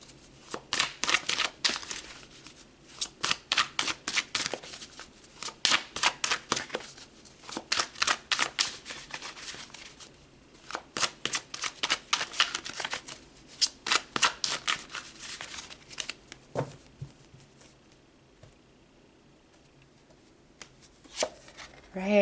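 Tarot cards are shuffled in repeated crisp bursts of riffling and flicking, close and clear, with short pauses between rounds and the shuffling fading near the end.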